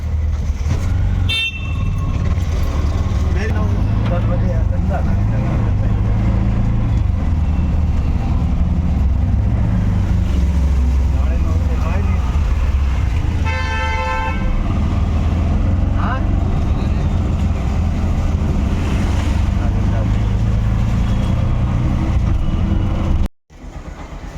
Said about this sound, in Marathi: चला आता आम्ही रिक्षात बसलो आहोत.